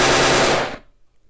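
Gunfire from a Unity 3D game under development: a loud, dense burst of synthetic gunshot noise lasting under a second, then cutting off quickly into near silence.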